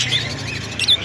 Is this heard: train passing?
no